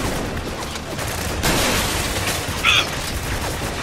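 Gunfire in the war shooter video game Spec Ops: The Line, a dense continuous crackle of distant rifle fire under a steady noisy din, with a brief shouted call near the end.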